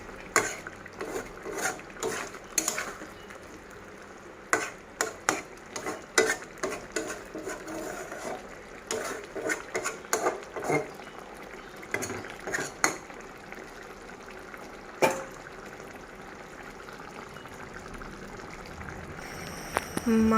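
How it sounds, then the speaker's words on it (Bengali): Spoon stirring a yogurt-braised meat curry in a pot after garam masala is added, with intermittent scraping and clinking against the metal over a low simmering bubble, close and moderately loud, no talk. "গরম মশলা দিয়ে দিয়েছি, আর একটু পরে নেড়ে চেড়ে নামিয়ে নেব।"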